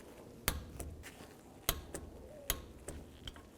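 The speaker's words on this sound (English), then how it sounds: "we're going to torque these bolts to 23 foot-pounds" A torque wrench tightening caliper bolts on a 2015-20 Hyundai Tucson during a front brake job gives several sharp, isolated clicks spaced irregularly, close and fairly crisp against quiet background.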